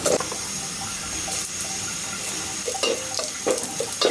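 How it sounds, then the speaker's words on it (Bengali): Onion and garlic fry in oil for dal, giving a continuous close hiss and sizzle broken by several short scraping stirs toward the end. "আমি এদিকে ডালের জন্য পেঁয়াজ রসুন ভেজে নিচ্ছি"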